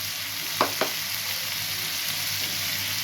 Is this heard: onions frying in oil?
yes